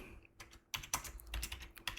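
Typing on a computer keyboard: quiet, close clusters of quick keystrokes after a brief pause, tapping in uneven bursts with no voices.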